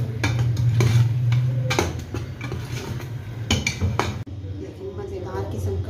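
Chicken keema with finely chopped green chillies and coriander being stirred in a pan, soft scraping and clinking of a spoon against metal, with a low sizzle beneath and brief speech.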